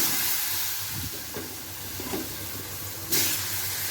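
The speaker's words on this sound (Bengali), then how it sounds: "জিরা আর তেজপাতা ফোড়ন দিয়ে এই আলুগুলো দিয়ে দিলাম" Potatoes dropped into hot oil tempered with cumin seeds and bay leaf, a steady close frying hiss with faint bubbling, a few soft bumps and a brief louder surge of sizzle near the end.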